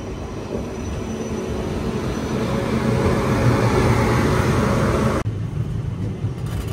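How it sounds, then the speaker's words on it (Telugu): Itarsi goods train rumbling past close by on an Indian railway line near an electric loco shed, a steady loud clatter of wagons and wheels that cuts off abruptly near the end. "ఇటార్సీ గూడ్స్ బండి వస్తుంది అటు సైడ్ నుంచి"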